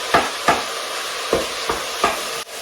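Food browning in a frying pan gives a steady sizzling hiss, broken by five sharp scraping stirs spaced roughly half a second to a second apart, close and moderately loud with no voices.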